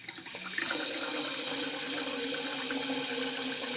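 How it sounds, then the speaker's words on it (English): Tap water runs into a shaving bowl in a steady, close, hissing stream that starts after a brief moment of handling noise and then keeps flowing without a break. "loading the bowl with water for rinsing,"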